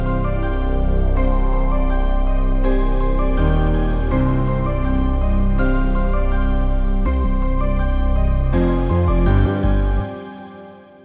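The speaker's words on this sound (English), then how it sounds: "to add some low into the melody, I used a growling moog bass" A growling Moog-style synth bass follows the root notes under a layered trap beat, steady and loud with drums and melody, ending abruptly near the close.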